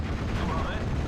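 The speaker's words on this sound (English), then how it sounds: "Go on, mow him down." Machine gun fire in the WWII strategy game Steel Division: Normandy 44, a dense continuous rattle of rapid shots with a steady loud level across the whole stretch.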